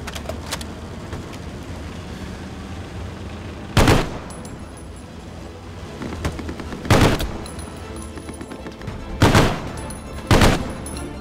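British Bren light machine gun firing in the World War II game Hell Let Loose: four separate short bursts, loud and close, over a constant background of battlefield rumble.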